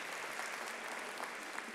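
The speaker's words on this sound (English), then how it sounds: "Let's give her a round of applause." Audience applause at a high school gathering, a continuous, moderately distant patter of many hands clapping with no voices over it.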